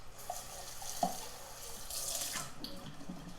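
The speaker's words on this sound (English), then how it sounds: "Okay, so once I rinse this out," Water runs from a tap as dyed fabric is rinsed under it, with a soft steady stream broken by a few splashes and small knocks, heard close and alone.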